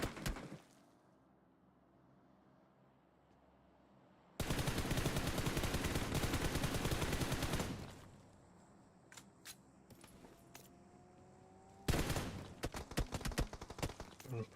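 Gunfire in a video game scrimmage: a dense, loud burst of rapid automatic fire lasts about three seconds, then a few scattered single shots follow, and a second run of fast shots comes near the end, with no talking.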